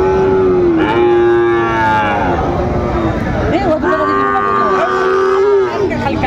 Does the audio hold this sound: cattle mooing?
yes